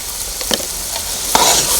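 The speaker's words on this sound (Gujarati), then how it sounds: "સતત હલાવતા રહેવું પડશે જેથી કરીને નીચે બેસી ન જાય" Green olo, a Kathiyawadi dish, is stirred with spices in a pan, giving a loud, close sizzle broken by a couple of quick scraping strokes of the spoon.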